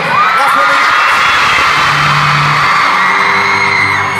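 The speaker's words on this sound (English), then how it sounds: "loud crowd." A large crowd at a pop concert in Belfast cheers loudly, a sustained roar of whoops and yells filling the whole stretch close to the listener.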